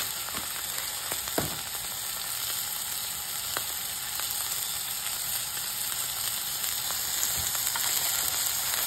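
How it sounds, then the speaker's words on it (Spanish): Beef sears in olive oil in a hot pan with a continuous crackling sizzle and scattered sharp pops and spits, steady and close throughout, with a faint high whine in the background and no voices. "Empezamos a sellar la carne y le ponemos sal y pimienta"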